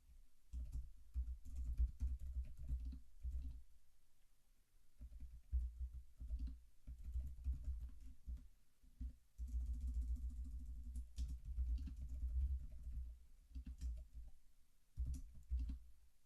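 Typing on a computer keyboard while writing a description in the BlueJ editor, with a steady run of soft, close keystrokes in bursts and short pauses over a faint low background hum.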